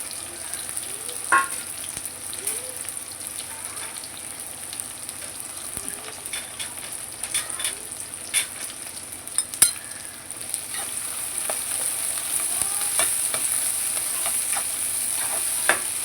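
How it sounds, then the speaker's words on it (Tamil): Small onions sautéing in oil in a pan for a pomfret fish curry, giving a steady, close sizzle throughout with occasional stirring scrapes and no voices. "நல்லா வதக்கி விட்டுக்குங்க சின்ன வெங்காயம் நல்லா வேகட்டும்"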